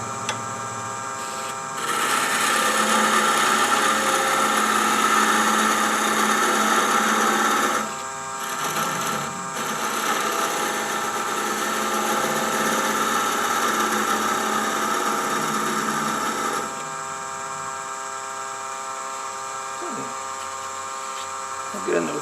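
Thin parting tool on a wood lathe spinning near 1,000 RPM, cutting off a turned wooden coffee scoop: a steady, loud whirring cut that runs continuously, briefly dips, then drops back to the quieter hum of the spinning lathe.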